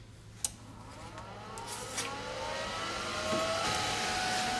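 A Harbor Freight Titanium 200 TIG welder powers on and runs, giving a steady low hum with a rising whine and a couple of faint clicks, its noise swelling slightly and then holding level, close by with no voices.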